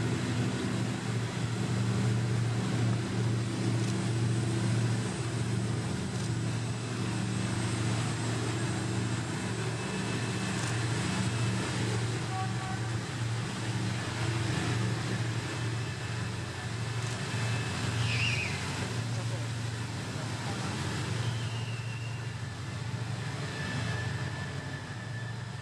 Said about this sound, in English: Well, you can hear the power in that boat.